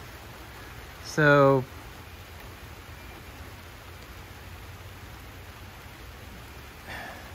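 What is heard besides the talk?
rain falling on a farm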